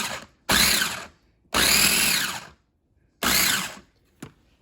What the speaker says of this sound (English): puree these strawberries very, very quickly. All right, so, and I'm just using my little KitchenAid